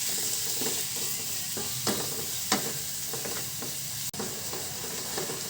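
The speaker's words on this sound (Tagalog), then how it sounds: "Gisa na natin ng sibuyas, bawang, giniling." Onion, garlic and ground pork are sautéed in a pan for tortang giniling, with a steady close sizzle throughout and occasional soft stirring scrapes, and no talking.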